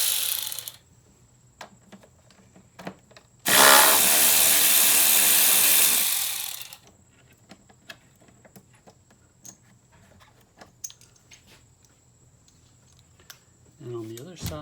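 A ratchet with a 10 mm socket removes parts on a Toyota RAV4 Limited V6 3.5L during a spark plug replacement, giving one loud, dense burst of rapid ratcheting for a few seconds, with faint scattered clicks before and after.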